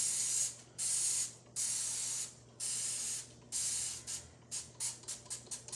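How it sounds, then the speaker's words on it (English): Dawn Platinum Power Wash soap sprayed over a shoe in repeated hissing bursts: four long sprays, then a quick run of short spritzes, close and clear. "you follow with the Dawn Platinum Power Wash soap. You spray the whole shoe down"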